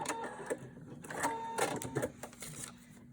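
A sewing machine stitching fabric along a seam, giving a faint, steady mechanical whir and rattle that runs in short bursts up close.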